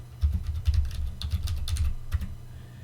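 A password is typed on a computer keyboard: a quick run of close, crisp key clicks and taps over roughly two seconds, with uneven rhythm and no voices.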